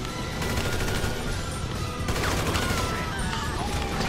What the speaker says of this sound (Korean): 총 쏘고 한번 해보죠.